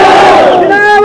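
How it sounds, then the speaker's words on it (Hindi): A dense crowd at a political rally in Chassana loudly chants the slogan "zindabad" in unison, a single sustained roar of many voices that stays close and full for about a second. "नारा दो, जोर से जिंदाबाद"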